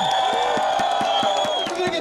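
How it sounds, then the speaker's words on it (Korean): A Korean baseball stadium crowd in a Nexen Heroes vs Hanwha Eagles game cheers and chants, with loud sustained voices. Steady rhythmic beats of clapping or noisemakers fill the whole stretch. "여러분 매일 경기 이런 모습 보여줄 수 있도록 큰 박수를 부탁드리도록 하겠습니다."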